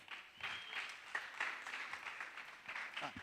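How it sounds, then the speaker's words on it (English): Audience applause at a startup pitch summit in Nairobi, a steady spread of clapping from a crowd filling the room for a few seconds, moderately loud with a faint voice underneath. "A round of applause for them."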